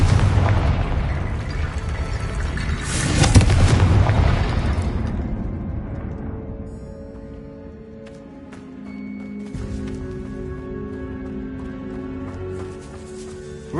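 A Confringo fire spell explodes in Hogwarts Legacy, a deep rumbling boom with a second burst swelling and fading into a low sustained roar and ambient tones.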